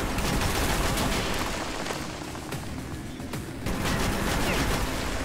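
Dense, continuous gunfire in Metro 2033 Redux, a rapid rattling fusillade with booming low end that barely lets up, loud and close over constant battle noise.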